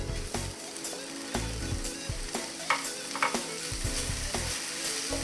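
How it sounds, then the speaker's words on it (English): Beef mince fries in oil with a steady, close sizzle, cut through by repeated scraping and stirring strokes at an uneven rhythm, with no talking. "Hear that sizzling now? It's going to be browning nicely."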